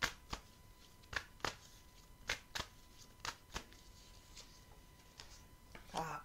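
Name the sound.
tarot card being drawn from the deck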